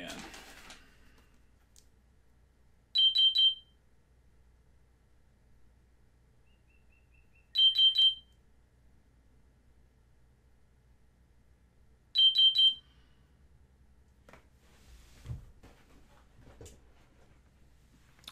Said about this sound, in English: I had an alarm go off,